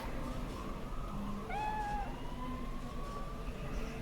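A cat's meow rises briefly over steady ambient hum in the futuristic city of the video game Cyberpunk 2077, a single clear mewing cry near the middle with no talking.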